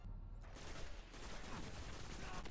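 Vision Stone auto rifle firing in the shooter Destiny, a sustained dense stream of rapid shots, fairly faint and continuous with no pauses.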